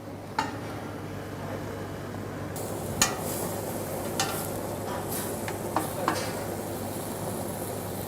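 Leeks frying in a pan give a steady, close sizzle that runs throughout, broken by a few sharp clinks and scrapes from stirring.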